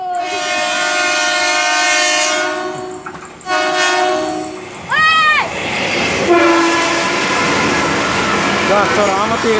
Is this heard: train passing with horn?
yes